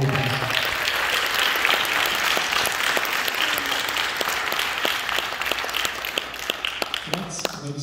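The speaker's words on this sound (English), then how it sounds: "Round of applause." Sustained applause from a crowd of attendees at a high school NJROTC change of command and award ceremony, dense steady clapping filling the room for several seconds with a few sharper individual claps standing out near the end.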